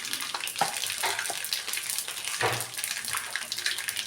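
Mustard seeds, cumin and urad dal fry in hot oil for a tempering, giving a steady loud sizzle with scattered crackles and pops throughout, without any voices.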